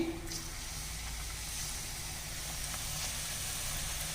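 Ragi thattai frying in hot oil on a medium flame, with a soft continuous sizzle and bubbling that stays fairly quiet and even from start to finish.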